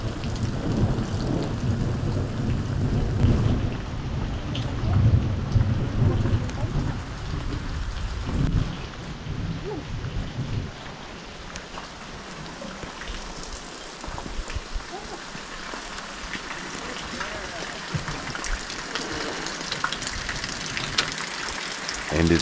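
Steady rain pours down in a continuous wash at a boondocking campsite in Tijeras, New Mexico, with low rumbles of thunder early on and no voices.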